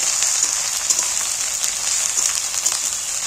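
Onion, fat and ginger-garlic paste sizzling steadily in a hot pan while being stirred, a continuous bright crackling hiss at close range with no talking.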